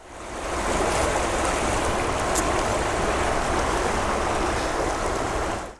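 Steady rush of the Haw River in central North Carolina, a broad continuous flow of water that swells in within the first second and holds loud and even throughout with no voices.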